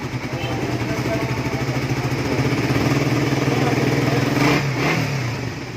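A Suzuki Raider 150 Fi motorcycle, converted from carburetor to fuel injection, runs its stock engine steadily, then climbs in a brief rev near the end, a loud, close, buzzing drone with no talk.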